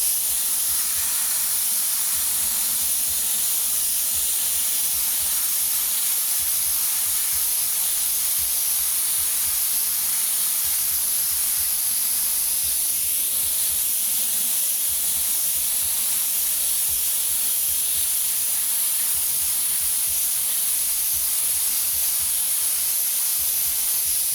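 An airbrush sprays blue paint in a steady, continuous hiss, with a faint pulsing compressor throb underneath and brief pauses where the trigger is released.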